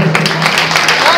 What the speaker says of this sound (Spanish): Fuerte el aplauso para Juli Dicey